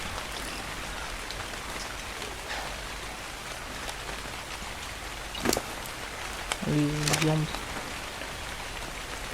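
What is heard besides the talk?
rain in a video game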